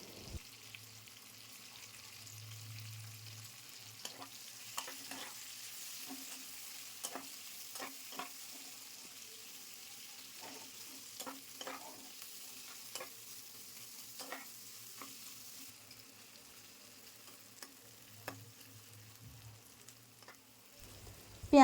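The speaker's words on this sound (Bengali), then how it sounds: "পেঁয়াজ তেলের সাথে নাড়াচাড়া করে লালচে করে ভেজে নেব।" Five medium onions, finely sliced, fry in oil and ghee in a kadai, a soft steady sizzle punctuated by repeated scraping stirs of a spatula, close but quiet, with no talking.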